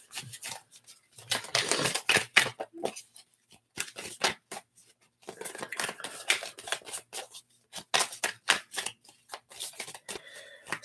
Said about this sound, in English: Let's pull one more card here for that.